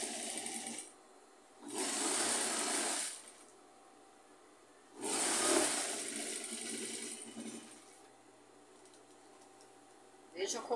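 A sewing machine stitches red fabric strips for a simple rag rug in two separate runs of steady, close whirring, each lasting a couple of seconds, with quiet room hum and handling between them.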